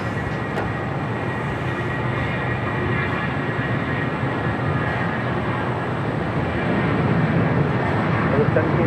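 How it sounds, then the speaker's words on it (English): A FedEx Boeing 767-300 freighter from Memphis arrives at LAX, a steady, loud jet roar holding throughout with voices faintly underneath. "Next arrival is FedEx Flight 518 coming in from Memphis on a 767-300 freighter."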